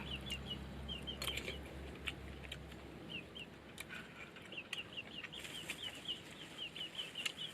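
Chickens clucking repeatedly in a rural Thai home setting, a steady string of short, fairly near clucks and calls that carry on throughout with no voices over them.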